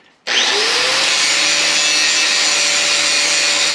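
A 4.5 inch angle grinder rated at 11,000 RPM switches on with a quick rising whine, then runs at a loud, steady high-pitched drone before stopping.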